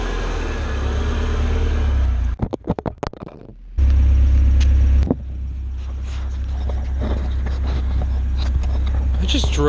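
Car driving, picked up by a microphone mounted in the coilover suspension: a loud steady low rumble, a burst of clattering knocks and dropouts, a brief roaring surge, then continuous road and engine noise, with people talking over parts of it.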